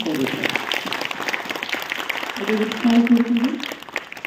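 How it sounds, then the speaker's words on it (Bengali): An audience clapping after a stage play performance, a dense burst of applause filling the hall with a voice speaking over it. "আপনারা একটা জোরে হাততালি দিন।"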